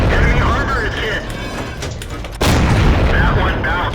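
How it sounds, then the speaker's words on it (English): The T49 tank destroyer's gun fires in World of Tanks, a heavy booming shot midway through under continuous engine rumble and game noise, with a voice talking throughout. "So I can just open fire immediately."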